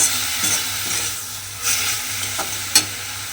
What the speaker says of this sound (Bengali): শাক আর বিটটা খুব ভালোভাবে মিশিয়ে একটু রান্না করে নিতে হবে